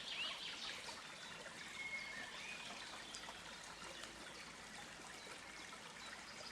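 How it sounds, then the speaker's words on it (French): Soft, steady trickle of a flowing river with a few faint bird chirps in the background; calm and continuous throughout. "Écoute l'eau."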